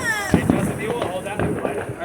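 Small Fourth of July fireworks give off sharp pops and crackles in quick succession nearby, with people talking over them.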